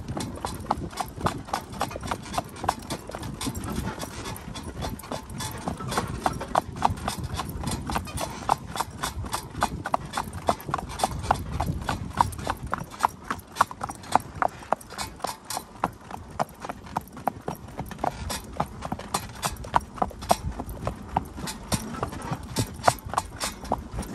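A horse's hooves clip-clop steadily while pulling a buggy on a ride with a young filly, a brisk, even rhythm that stays close and continuous throughout, with faint low voice underneath.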